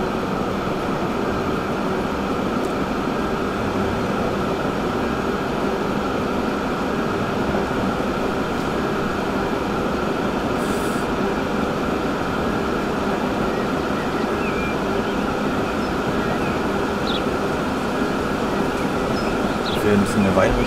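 In the video game Transport Fever, a steady train runs through a tunnel, giving a continuous rumbling roar with constant rail and wheel noise. It stays unbroken from start to end, with no clear talk over it.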